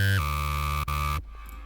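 Layered Serum synth patches for a halftime bass sound, a loud, dense, buzzing tone that steps down in pitch early, drops out for an instant, then cuts off into a short, quiet tail.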